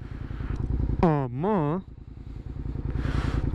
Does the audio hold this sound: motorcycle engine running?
yes